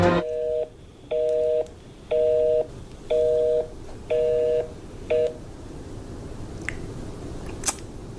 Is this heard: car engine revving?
no